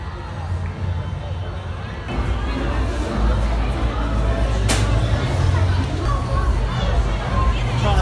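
Crowds fill Main Street at Disneyland Paris just after the parade, a dense steady babble of many voices and footsteps that swells louder partway through, with a brief sharp noise near the middle.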